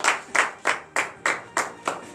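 A congregation at a Beninese morning prayer service claps in unison, about seven sharp, evenly spaced claps at a brisk rhythm, loud and close with no voices over them.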